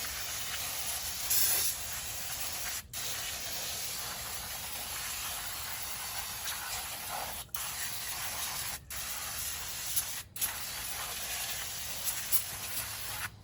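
Brake cleaner sprays in long continuous hissing bursts onto the rear brakes of a 1986 Ford F150, close and loud, broken by a few short pauses between blasts.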